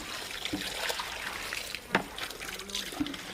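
Tap water arriving and running at a home sink, a faint, uneven trickle with small splashes and a few soft knocks.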